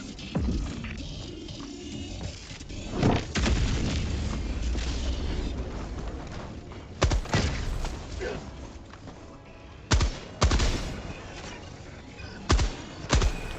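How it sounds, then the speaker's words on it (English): Orbital strike explosions in the shooter Helldivers II, several heavy booming blasts at irregular intervals over a continuous rumbling battlefield din, loud and close. "Calling in an orbital strike."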